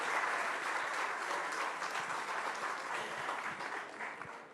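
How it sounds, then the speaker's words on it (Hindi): Dense, sustained audience applause at a large televised public event, loud and even throughout before easing slightly at the end, with no voices over it. "इतनी ताली और ऐसा स्वागत"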